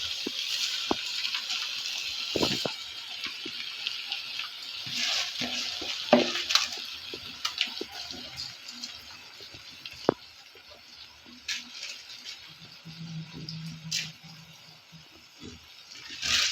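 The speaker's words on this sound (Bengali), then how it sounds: "সব চালটা দিয়ে দিলাম" Washed rice is tipped into a pot of fish pulao, giving a soft sizzle with scraping, rattling stirs and sharp clinks of a utensil against the pot, moderately close and fairly quiet, with brief pauses between the bursts.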